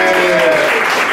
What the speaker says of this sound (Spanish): Espero un gran aplauso por parte de vosotros ahora.